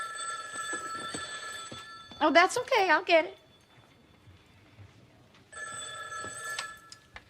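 A telephone rings in a home, with a steady electronic ring at the start, then someone speaking briefly, then the ring returning, moderately loud and close.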